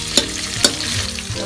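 Urad dal, fennel seeds, mustard seeds and cumin fry in hot oil for a village-style chicken curry, a close crackling sizzle with two sharp spoon strikes against the pan.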